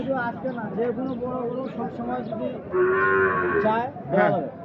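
A large bull lets out a loud, drawn-out moo, followed by a shorter one, amid nearby people talking and a busy crowd at the Ambari cattle market.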